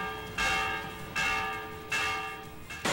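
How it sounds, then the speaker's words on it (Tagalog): Church bells ring out in a slow, steady rhythm, three strong strikes with long ringing tones hanging between them, no voices present. "kasabay ng pagpapatunog ng kampana sa mga simbahan"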